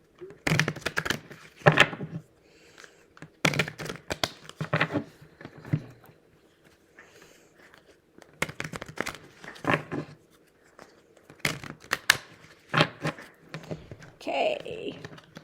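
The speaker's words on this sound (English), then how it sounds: "Give these a ruffle shuffle again." Tarot cards given a ruffle shuffle during a reading, producing bursts of rapid riffling patter in several separate clusters, close and crisp, with quiet pauses between bursts.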